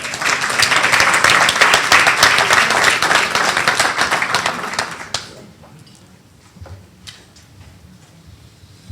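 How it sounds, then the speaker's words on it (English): Enthusiastic applause at a leadership awards event as a councilman comes forward to present, dense clapping from a large audience for about five seconds before cutting off, followed by quiet room noise and a few stray claps. "Give him a round of applause, please."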